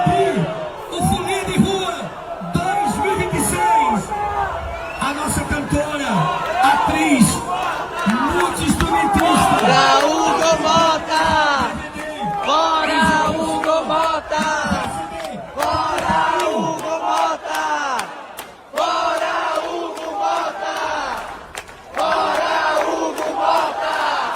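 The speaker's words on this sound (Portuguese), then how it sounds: "presidente da Câmara sendo vaiado durante um evento de pré-carnaval em João Pessoa" A large crowd at a pre-carnival street party in João Pessoa loudly boos and jeers the Chamber president, a sustained roar of voices with shouts rising and falling throughout.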